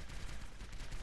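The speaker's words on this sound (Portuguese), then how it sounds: "tá tomando tiro, não sei de onde." Rapid gunfire from the Overwatch mobile game on Android rattles continuously and loudly throughout, a dense barrage with no pauses.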